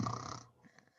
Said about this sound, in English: Me snoring.